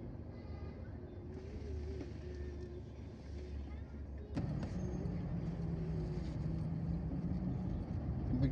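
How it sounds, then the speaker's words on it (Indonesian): Vehicles stuck in a total traffic jam below a very steep climb at Betung on the Jalan Lintas Timur, Palembang–Jambi road, give a steady low engine rumble that grows louder about halfway through. "Beginilah kemacetan terjadi di Betung, Jalan Lintas Timur, Palembang, Jambi, teman-teman."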